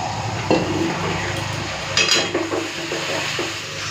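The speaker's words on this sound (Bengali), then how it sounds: "সামান্য একটুখানি জল দিয়ে দিচ্ছি দিয়ে মশলাটা কষে নেবো" Chili powder and Kashmiri red chili spice paste cooking in a pan with a splash of water, a loud close sizzle broken by sharp scrapes and clinks of a spoon stirring against the pan.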